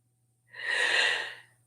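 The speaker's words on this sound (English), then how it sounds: "But I had to sneeze." A single sneeze-like burst of breath, a sharp airy rush that swells and fades over about a second, close and fairly quiet.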